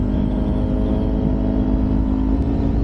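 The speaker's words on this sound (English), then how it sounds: "Ang ganda talaga ng tunog ng mga 4-cylinder" Steady four-cylinder car engine running close by, a continuous rumbling drone with no clear revs or breaks.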